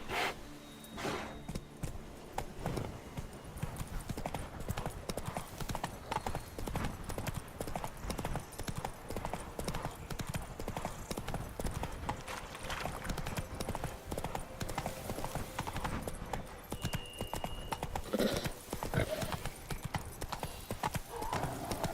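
Rhythmic hoofbeats of Geralt's horse Roach galloping in The Witcher 3, a steady, loud clip-clop running throughout with a brief whinny and game ambience.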